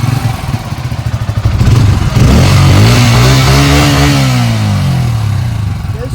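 A Bajaj Freedom CNG motorcycle engine idles with a fast, even putter, then revs up with a rising, swelling tone that holds loud and close before easing slightly, with no talking over it.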